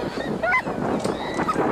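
Geese honk loudly at close range while someone tries to feed them, giving several harsh, overlapping honks in quick succession.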